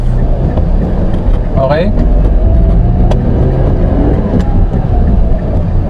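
A car eases off from a stop in street traffic, its low engine rumble steady and close under a driver's brief spoken word, with faint traffic noise around.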